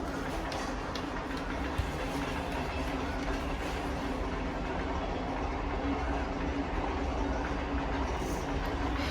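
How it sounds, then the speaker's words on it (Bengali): A train rolls past somewhere nearby in a residential setting, a steady broadband rumble with faint rhythmic clatter of railroad cars holding evenly for the whole stretch, with no talk over it. "তো ওই দিক দিয়ে ট্রেন যাচ্ছে"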